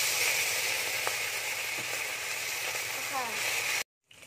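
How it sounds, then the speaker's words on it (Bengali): Small mola fish rubbed with salt and turmeric hiss and sizzle as they go into hot oil in a kadai. The frying sound is steady and close for about four seconds, then cuts off abruptly. "তেল গরম হয়ে গেছে, এবার মাছগুলো দিয়ে দেব।"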